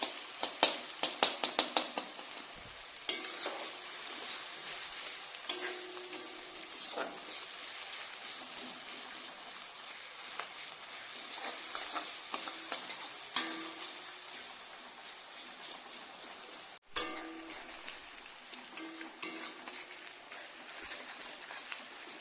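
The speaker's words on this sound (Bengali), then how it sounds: "চেরা কাঁচা লঙ্কা আর পেঁয়াজটাকে তেলে ফ্রাই হতে দিয়েছি" Onion and slit green chillies frying in oil for a home-style chicken curry, a light crackling sizzle with frequent close stirring scrapes and spoon taps throughout, fairly soft overall.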